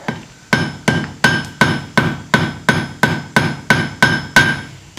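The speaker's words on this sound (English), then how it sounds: "you can do this with a big hammer. You just have to be very careful about it." A big hammer taps hot steel on an anvil while forging a simple leaf, eleven evenly spaced ringing blows at a brisk steady rhythm, each strike sharp and metallic with a short ringing tail.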